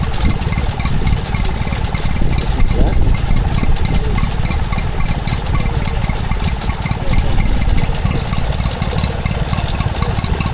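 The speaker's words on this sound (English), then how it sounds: "That there is a Stuart Turner P4 two-stroke engine, as you can hear" A 1952 Stuart Turner P4 two-stroke stationary engine of 2 horsepower, running a water pump at a spring fair, with a loud, steady rapid chugging beat that continues without pause.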